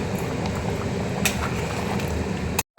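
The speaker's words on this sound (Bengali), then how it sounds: "আমার খাসির মাংসের ঝোল ফুটে উঠেছে" Mutton curry jhol, a red goat-meat gravy, bubbles vigorously in a pot, a dense steady burble of popping bubbles close by that cuts off abruptly at the end.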